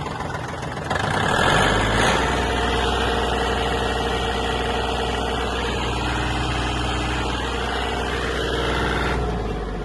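A Japanese Kubota L1-185 mini tractor engine being revved: a quiet idle swells into a loud, steady, close-up drone that holds for several seconds and then drops back slightly near the end.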